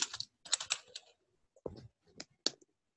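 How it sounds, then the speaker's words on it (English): Typing on a computer keyboard while writing Python code, with irregular bursts of crisp key clicks close by, separated by short pauses, and no speech. "I'm just typing something"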